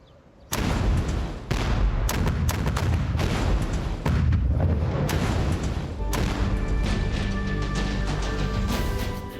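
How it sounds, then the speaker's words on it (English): Cannon fire booms out in a fast sequence of heavy blasts, each crack followed by rumbling roll and echo, the reports overlapping into a dense, loud barrage that persists after the first shot. "So is he going to fire his cannon at us?"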